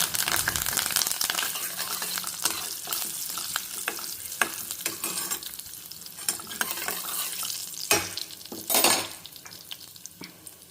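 Dried red chillies and asafoetida fry in hot oil in a pan, giving a steady close sizzle with occasional clinks of a spoon against the pot and a few louder stirring scrapes near the end.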